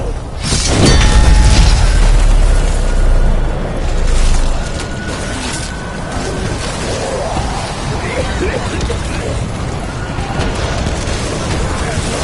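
An explosion in Call of Duty Black Ops 4 Zombies opens with a loud, deep boom and shattering debris, followed by a second rumble, then a rough, noisy game din that stays busy for the rest of the stretch.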